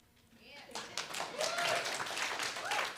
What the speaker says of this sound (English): Clap to her, not me.